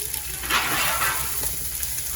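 Chopped onions hit hot oil in a pan, a broad hiss of sizzling rising briefly and then settling into a steady crackle.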